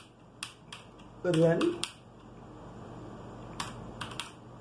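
A computer keyboard is tapped in short clusters of quick keystrokes while a Python command is entered to run a Django server; the clicks are close and light, with a brief louder burst in the middle.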